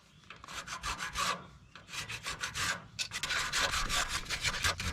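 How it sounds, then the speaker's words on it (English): Close, steady rasping and rubbing of abrasive against a corner of a Cat D3 farm dozer part, in rhythmic back-and-forth strokes with brief pauses, loud and alone with no talk. "I'm just going to rough up this corner a little bit."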